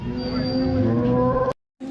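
A cow at a livestock market gives a loud, close, drawn-out moo lasting about a second and a half, then breaks off briefly before a second call begins.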